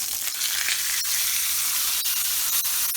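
A T-bone steak sears in a frying pan with a steady, loud, dense sizzle that runs unbroken throughout, broken only by a few faint clicks.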